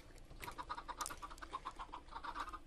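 Chickens in Minecraft cluck in quick, repeated bursts, several birds at once, steady and moderately loud with no talking.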